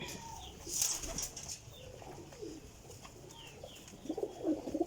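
A teddy pigeon coos in low, soft bursts, with a few wing flutters and a louder run of cooing near the end, no voices.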